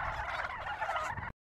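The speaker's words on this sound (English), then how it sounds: "I'm telling you, it's the turkeys." Turkeys gobble in a dense, loud, close chorus of rapid warbling calls that runs for just over a second and then cuts off abruptly, with no one talking.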